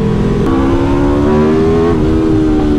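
An Aprilia motorcycle engine pulls hard under acceleration, its steady droning tone climbing slowly in pitch, loud and close throughout with heavy wind rush and no talk.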